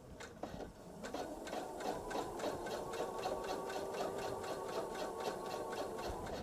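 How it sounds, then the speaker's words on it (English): A sewing machine with a walking foot stitching a jelly roll bag a quarter inch from the edge, a fast steady mechanical chatter after a brief start. "I am stitching 1/4 inch from the edge"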